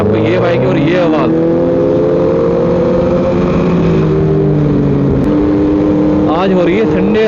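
A motorcycle with a loud exhaust revs hard on a night ride, its engine pitch sweeping up and down in repeated close, loud surges, with voices talking over it.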